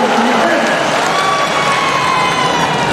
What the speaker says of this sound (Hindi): अरे ताली बजाओ भाई